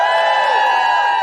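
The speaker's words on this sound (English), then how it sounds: "Give us a cheer if you're both." A live podcast audience cheers in a venue, a short, loud, sustained burst of crowd whooping and shouting at full volume.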